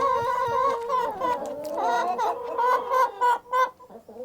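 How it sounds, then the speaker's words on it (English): Chicken clucking played forward then reversed as a palindrome, giving a close, continuous run of warbling clucks and squawks that turn choppy and stuttering toward the end, with no one speaking. "you're gonna hear a little bit of break, and then chicken sound, the buffer number 0 being played in palindrome"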